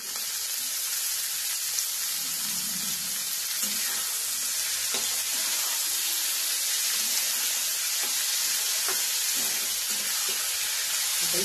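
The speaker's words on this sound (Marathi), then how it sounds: "आता शेंग आपल्याला चांगली भाजायची आहे" Green beans (shravan ghevada) frying with onion in a pan give off a steady, close sizzle that runs unbroken throughout, with a few soft clicks of stirring and no voices.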